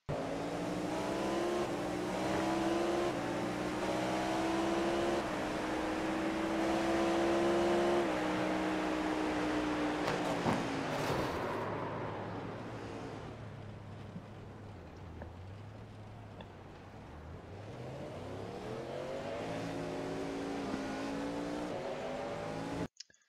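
Race cars at Daytona in the iRacing sim during the 24 Hours, engines screaming at high revs, then a sudden drop-off as the note fades, before another engine climbs back up through the gears, with faint tyre noise.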